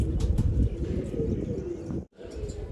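Soft, low cooing of pigeons throughout, with a few higher chirps near the start and a brief pause toward the end.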